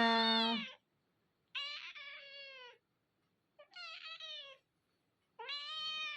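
A cat meows four times, drawn-out and plaintive, each call separated by a second or so of quiet, close to the microphone.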